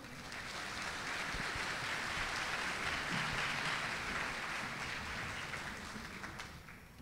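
Audience applause at a graduation ceremony for a leadership academy, a soft, distant, continuous patter of many hands that swells in the middle and tapers off toward the end, with no voices.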